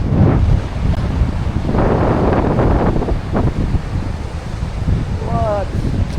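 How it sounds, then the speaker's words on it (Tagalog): Ocean waves wash onto the shore on the Ilocos coast, buffeted by gusty wind rumbling across the microphone, with a brief faint voice near the end. "Alon."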